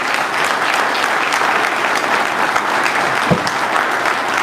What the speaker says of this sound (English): Please keep that applause going for our next speaker